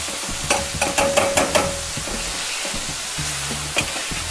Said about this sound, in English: So now we'll just continue to go in here, and we're deglazing, right? Mash as much flavor as you can get out of those vegetables, like this.